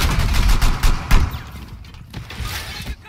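Rapid gunfire in Rainbow Six Siege as an enemy shoots through a wall, a burst of sharp, heavy automatic shots that thins out into scattered softer impacts and debris.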